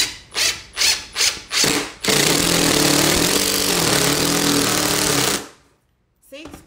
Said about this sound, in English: I'm going to drill my screw in